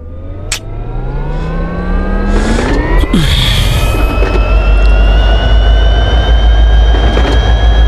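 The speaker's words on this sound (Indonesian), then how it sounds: "Kayak dengar suara mobil" A car engine in the PUBG Mobile battle royale game revs and climbs in pitch, loud and close, droning on steadily with a brief swoosh partway through and no talk over it.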